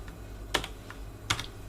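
A few isolated keystrokes on a computer keyboard, two sharper clicks standing out over a low steady background hum, sparse rather than continuous typing.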